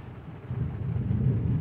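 A low, deep rumble of thunder from a strong thunderstorm in Villers-Bocage, France, swells and rolls on for a moment, with no voices.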